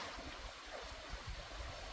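Fast-flowing river water rushes near the Kondathu Kaliamman temple at Pariyur, a dense, steady broadband hiss and churn, fairly faint and continuous with no voices.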